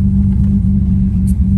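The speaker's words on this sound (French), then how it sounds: "Le ralenti, j'aime beaucoup déjà." A 1984 phase 1 car engine idling, a steady, loud low rumble with an even hum and no revving, heard close up and alone.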